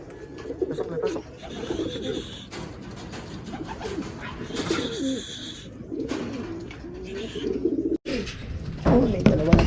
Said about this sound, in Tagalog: Oh, may dalawa na tayo mga kalapatids.